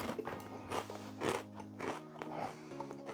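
Utz sour cream and onion potato chips are bitten and chewed up close, a series of sharp crunches followed by crackly chewing in an irregular rhythm, no speech.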